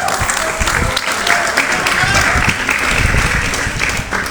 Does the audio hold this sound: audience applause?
yes